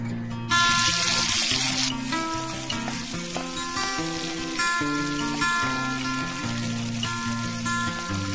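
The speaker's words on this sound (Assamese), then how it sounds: "তেলখিনি ভালদৰে গৰম হৈ অহাত ইয়াত কাটি লোৱা পিয়াজ দিছো" Chopped onions fry in well-heated oil, giving a steady, close sizzle and crackle that runs throughout under background music with a melody.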